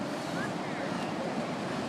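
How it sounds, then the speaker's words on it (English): Ocean surf washes in at a dog beach in Ocean Beach, a steady broad rush of waves mixed with wind buffeting the microphone, fairly loud and unbroken. "Look at that water, guys. Look at the ocean, the waves."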